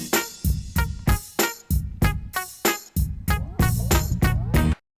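The intro version of a hip hop track from a DJ platform plays, with a punchy, rhythmic beat of evenly spaced hits for about five seconds before it cuts off abruptly.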